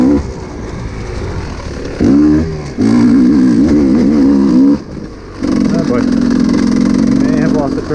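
Motorbike engine on a single track trail, loud and close, held in a loaded mid-range drone with shifts in pitch and a couple of brief dips, as a rider talks over it.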